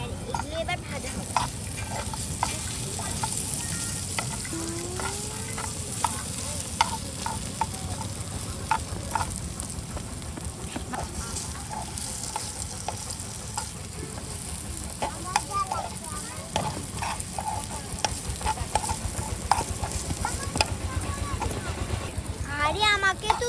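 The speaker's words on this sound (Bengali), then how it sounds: "আমি এখানে আলু কেটে পরে এখানে সব ধরনের মশলা দিয়েছি, পরে এখানে তেল দিয়েছি আর পরে তেল দিয়ে এগুলো দিয়ে দিয়েছি আর এগুলো এবার ভাজা হবে" Cut potatoes with spices sizzle in oil while being stirred in a child's play-cooking setup, a steady crackling fry with intermittent scraping and clicking stir strokes, and a voice talking over parts of it.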